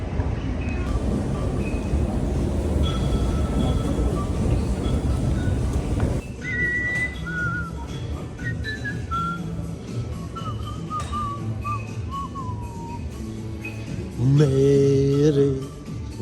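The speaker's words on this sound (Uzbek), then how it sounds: "Berlinda metrosini bir ko'ringizlar va baho beringizlar" A Berlin metro train in motion, a steady loud rumble for the first six seconds, then softer running noise with high wheel squeals and whistling tones, and a brief loud tonal blast near the end.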